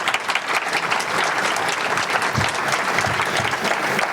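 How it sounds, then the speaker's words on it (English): A seated audience applauds a choir of singers at a Black History Month event: full, even clapping from many hands, steady and moderately loud for the whole stretch, with no voices over it. "Let's give them a round of applause."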